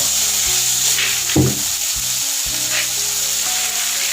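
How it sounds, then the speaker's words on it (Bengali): Chopped onion sizzles loudly with already-fried vegetables in a pan for flattened-rice pulao, a constant close frying hiss broken by a few stirring scrapes. "এবার এটাকেও খানিকক্ষণ ভাজবো।"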